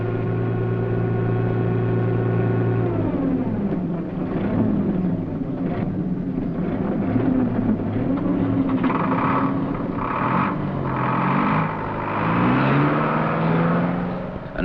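A Thames 4D 3-ton lorry engine labours while moving large pipe sections at Hanningfield in 1957, a steady diesel drone with shifting pitch as it revs and changes gear, loud and continuous throughout.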